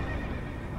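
A horse neighs in the Dark Souls II boss fight against the Executioner's Chariot, a steady, dense whinny that fills the short moment without any voices over it.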